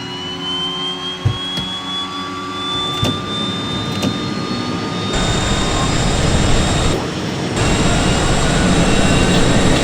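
Turboprop engine of a DHC-6 Twin Otter, simulated in MSFS 2020, spools up from a rising whine into a steady loud roar, with a few clicks early on and the whine climbing steadily throughout.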